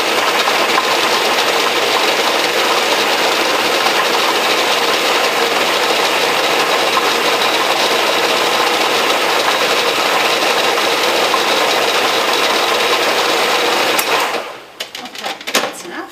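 A food processor blends an oatmeal mixture of oat groats and applesauce in a steady, loud, continuous whir that holds for about fourteen seconds, then cuts off into softer kitchen clatter.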